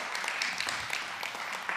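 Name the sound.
church congregation applause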